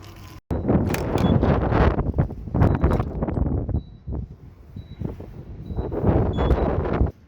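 Strong outdoor wind buffets the microphone in loud, rough gusts that roar and ease off, with a brief dropout near the start and faint high chirps in the background.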